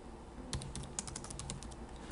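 Code being typed on a computer keyboard for an Arduino and Processing project: a quick run of close, soft key clicks at an uneven pace over a quiet room, with no talk.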